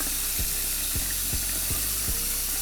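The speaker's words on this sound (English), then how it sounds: "Come in here, add some more water." Tap water runs steadily into a sink during a hair wash, a continuous close hiss broken by several low thumps at regular intervals, with no talking.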